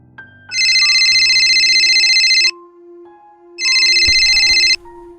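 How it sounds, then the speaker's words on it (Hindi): A telephone rings loudly in two long electronic bursts separated by a pause, with a faint low hum underneath. "उतनी देर में वेदा का फोन बजता है।"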